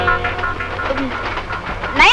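Train running with a steady low rumble and rattle, a brighter screech or whistle near the end, while people talk over it.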